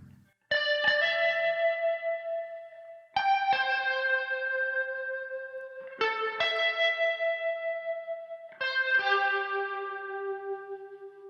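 Four slow, ringing electric guitar chords recreating a Silent Hill 2 soundtrack tone, each struck once and left to sustain with a warbling speaker-effect tone that fades before the next.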